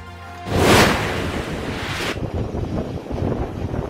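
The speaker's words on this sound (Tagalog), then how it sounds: "Malalaking alon ang humampas sa baybayin ng Sibulan, Negros Oriental." During Tropical Depression Wilma, a big wave slams into a seawall on the Sibulan coast of Negros Oriental with a loud, roaring surge, then churning water and gusting wind buffet the microphone.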